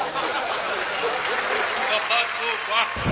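Audience applause at a Hindi comedy poetry gathering (hasya kavi sammelan), steady dense clapping filling the whole moment with crowd noise mixed in, ending abruptly.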